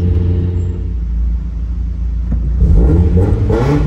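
A Mazda MX-5 NA roadster's exhaust drones steadily while driving, a deep rumbling note that swells louder near the end as the engine revs up.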